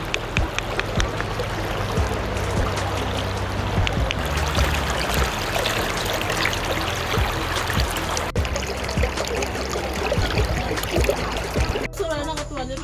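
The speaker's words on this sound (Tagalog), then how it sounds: "pinuntan ko saglit ng ilog" A river runs continuously in a broad, rushing wash of flowing water, close and steady throughout with small splashes and trickles on top, ending with a brief burst of handling noise.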